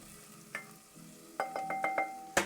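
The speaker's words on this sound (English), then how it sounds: "you can hear that lovely sizzle" Onions sizzle in a hot pan while a utensil stirs them, giving a steady frying hiss broken by several sharp scraping strokes, close and fairly quiet.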